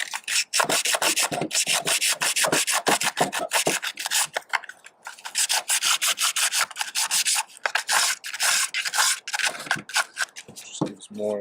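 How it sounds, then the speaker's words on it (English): Coarse 36-grit sandpaper rubs in quick, steady back-and-forth strokes against a fiberglass gutter being prepared for epoxy, loud and close, with only short pauses between bursts of scraping. "a little more sanding."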